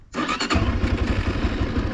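A Kovi ADT 300 motorcycle engine cranks on the starter and catches, then settles into a steady, loud idle close by.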